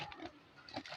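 A pig, heard faintly as a few short grunts and snuffles at close range, low in level with light background noise.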